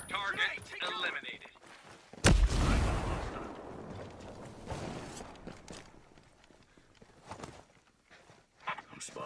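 A heavy gunshot blast erupts in the tactical shooter Ghost Recon, a sudden loud boom with a rumbling tail that fades over a few seconds, surrounded by radio-style voices talking.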